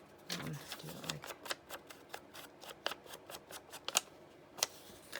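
Paper being torn by hand for a junk journal, a run of quick, dry rips and rustles at close range, with a few sharper tears standing out and a voice briefly audible.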